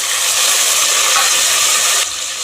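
Chopped tomatoes hit a pan of sautéed garlic, cumin and pepper, giving a loud, steady broadband sizzle that drops slightly near the end, with no voices.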